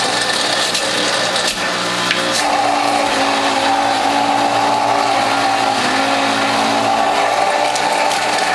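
A WHF juicer grinds collard greens and red cabbage with a loud, steady mechanical whir and ratcheting grind, its pitch sagging slightly under load and holding constant throughout, with no talking.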